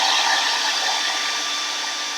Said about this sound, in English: I'm going to take and dry this real quickly with my hair dryer